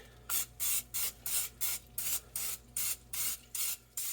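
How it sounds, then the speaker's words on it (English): Short bursts of nonstick cooking spray onto a pan, about a dozen hissing pulses in an even rhythm, close and fairly loud. "spray this up with some nonstick."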